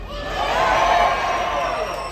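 An audience at a stunt show cheers and screams together, a short close burst of crowd noise that swells and then fades slightly.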